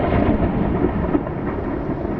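Thunder crack from a lightning strike in a spooky graveyard scene, a dense rumbling roar that fills the whole clip at steady loudness, with a faint rain-like hiss and no voices.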